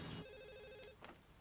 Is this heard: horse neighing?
no